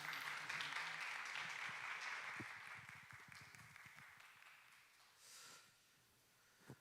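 Faint, distant applause fills a church hall as a congregation welcomes a visiting missionary speaker, a dense patter that thins out and fades after a few seconds.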